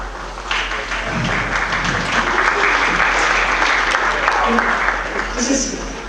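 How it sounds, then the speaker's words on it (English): Hearty applause from a convention audience, a steady wash of many hands clapping close by with a low hum underneath and a few voices mixed in, lasting throughout. "Does this round of thrilling applause mean I'm meant to go?"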